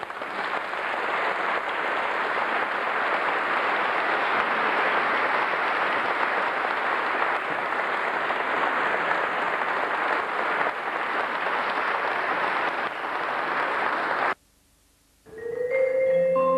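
Audience at a jazz concert applauds a trumpeter, a dense sustained round of clapping lasting about fourteen seconds before cutting off abruptly, followed by a brief tonal sound.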